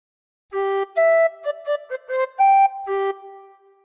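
A short, clear tin whistle melody of about seven notes, played alone with slight breathy attacks and a soft fade at the end.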